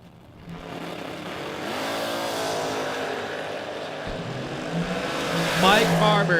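Drag racing cars, among them a Chevelle, roar down a racetrack in a steady loud engine drone that swells near the end, with an announcer talking over it.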